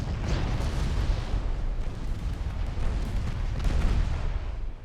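Torpedo hits explode against ships in a naval warfare video game, a continuous rumbling roar of heavy booms and blasts rolling together, loud and dense throughout with no voices.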